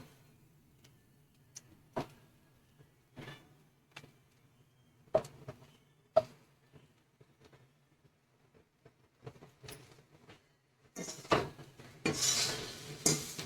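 Boiled rice going into a pan for egg fried rice and being mixed, sparse metallic clinks and taps of a spoon on the pan in a quiet kitchen, ending in a brief louder burst of sizzling and scraping.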